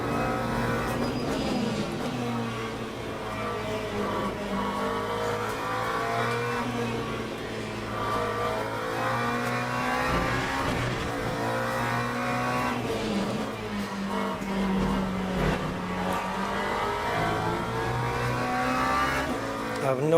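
A McLaren race car in the Le Mans Ultimate sim racing game, its engine rising and falling through gear changes at a continuous, steady level with occasional tire squeal.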